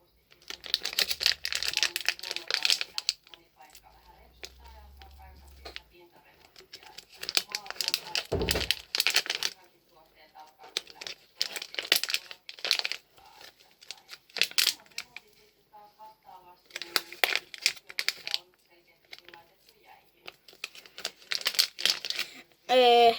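Sheets of paper crinkling and rustling as they are handled during the unboxing of a Poopsie Sparkly Critters slime toy. The crinkling comes as repeated close bursts of dry crackle, with a voice talking in between.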